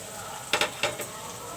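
Mixed spices for a Bengali hilsa fish bhuna drop into hot mustard oil, giving a few quick scrapes and clatters of a pan over a faint steady sizzle.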